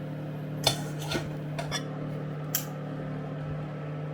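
Several light ceramic clinks and taps, a plate settling onto a pot of lard simmering in onion skins, over a steady low kitchen hum.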